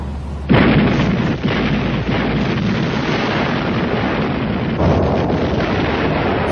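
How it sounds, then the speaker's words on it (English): Japanese battleship big guns firing salvos of naval artillery at Leyte Gulf, a sudden loud blast followed by a sustained roaring, crackling barrage with further heavy bursts. "At a range of 19 miles, the Japanese big guns opened fire."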